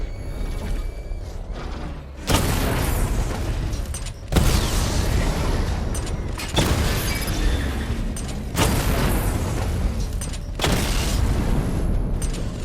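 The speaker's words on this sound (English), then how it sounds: "Charge the missile barrage to level 2 to destroy up to 4 targets at once." A missile barrage in Batman: Arkham Knight fires in heavy rolling volleys: four loud, broad bursts roughly two seconds apart, each a thick wash of rumbling explosions and mechanical clatter, with quieter gaps between.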